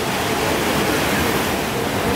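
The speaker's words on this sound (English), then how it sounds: "Look at these waves." Ocean waves in Bali, Indonesia, rushing in a continuous broadband roar, close and loud, with no voices and no clear breaks between swells.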